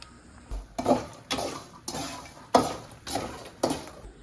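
Makhana (fox nuts) tumble and scrape in a pan while being fried for gond ladoo, giving rhythmic stirring strokes about every half second, close and moderately loud with a hissing bed underneath; no talking.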